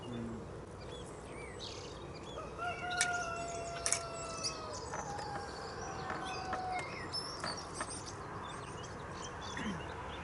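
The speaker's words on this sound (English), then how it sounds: "Just sitting down here and listening to the birds and the chickens." Outdoor bird calls and chirps ring out intermittently at an allotment over a steady background hum, with faint chicken clucking mixed in; no talking.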